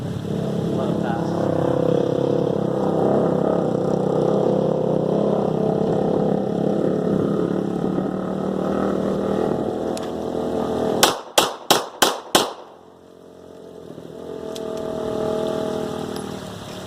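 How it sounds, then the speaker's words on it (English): Engine drone of ATVs and motorcycles rumbling past, then a quick series of sharp gunshots before the engines return faintly in the distance. "Sorry about the ATVs, the motorcycles."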